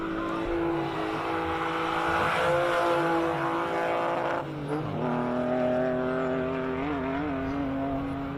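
A classic race car accelerates hard up a hill climb course, engine roaring loud and close with rising harmonic revs through the gears while the tires spin and squeal, the note dipping briefly at a bump before climbing again.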